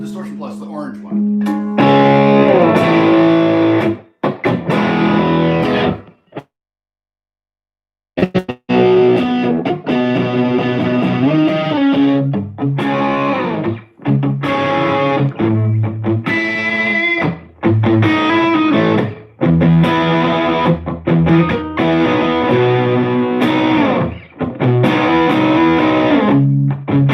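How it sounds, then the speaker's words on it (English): Electric guitar played through an orange Distortion Plus pedal, loud and saturated with sustained chords and riffs, briefly cutting out to silence about a quarter of the way in before resuming steadily. "put on the Distortion Plus, the orange one."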